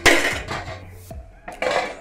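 A cooking pot is lifted off the stove and set down in a home kitchen, making a few sharp metallic clanks and knocks spaced over about two seconds, close and fairly loud.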